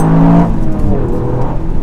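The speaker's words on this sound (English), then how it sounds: "the engine noise. It's a 3-cylinder." The three-cylinder engine of a Toyota GR Yaris revs with a rising then settling tone, close and loud over a short burst.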